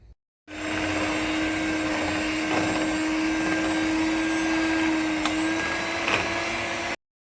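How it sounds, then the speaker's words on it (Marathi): An electric mixer whips cream for a mango cheesecake, switching on abruptly and running as a steady, close motor whir for about six seconds before cutting off. "चला आता आपण एक मिनटं फिटून घेऊया"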